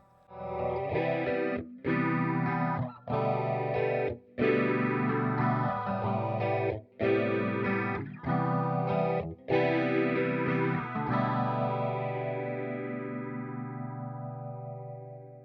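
Electric guitar chords strummed in short bursts through a Strymon Zelzah modulation pedal's warbling, wavering effect, the last chord left ringing and slowly fading out; no voices.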